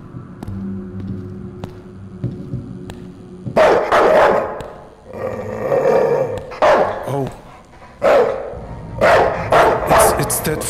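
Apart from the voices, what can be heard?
dog barking and growling in the horror video game Night People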